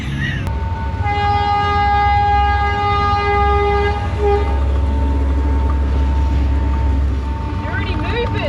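A train horn sounds a long, loud sustained tone over a deep rumbling of passing rail cars nearby, in Sri Lanka.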